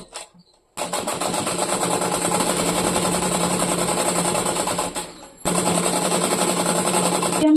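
A sewing machine runs at a fast, even chatter, stitching along the belt of a gathered skirt. It makes two long continuous runs separated by short pauses, close and steady with no talk.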